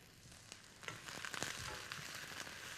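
Coarsely cut onions sizzle in a pan with okra (bhindi), a soft, steady frying hiss with faint stirring crackles, fairly quiet throughout.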